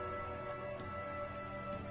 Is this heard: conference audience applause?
no